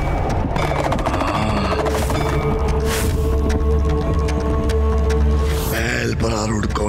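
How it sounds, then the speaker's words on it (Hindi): Loud dramatic sound effects from a mythological Hindi TV show, with dense layered rumbling and booming under swelling music and a burst of sharp crashes, fitting an explosion, continuing steadily for about seven seconds. "ये कैसा विस्फोट था?"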